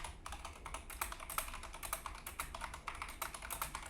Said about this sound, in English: I'm going to start right now by typing on the keyboard to see how well it picks up keyboard typing